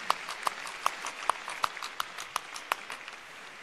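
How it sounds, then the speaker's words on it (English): Applause from a tech conference audience for a man in a panda costume, with distinct sharp claps at a steady rhythm standing out over a softer background of crowd clapping. "So I'd like to give him a massive round of applause."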